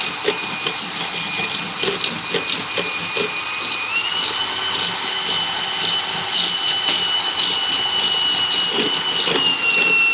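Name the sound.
power drill running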